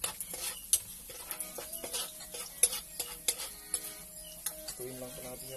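A spatula scrapes and taps in a pan while garlic is stirred over a charcoal fire for eel adobo. Irregular close clinks and scrapes sound over a faint sizzle, with no speech.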